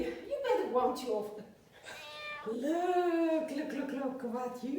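A house cat meows while being offered vegan cat food in a home kitchen: several long, rising and falling meows, loud and close, with a short lull between them.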